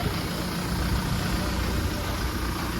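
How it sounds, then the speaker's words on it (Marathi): A vehicle engine at a Marathi band event runs steadily with a broad low rumble, close and continuous as it pulls away, with no talking over it. "चला मित्रांनो, गाडी निघते."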